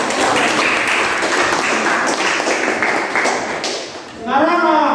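A classroom applauds after a group presentation, a loud, dense patter of many hands clapping for about four seconds, then fading as a voice begins speaking.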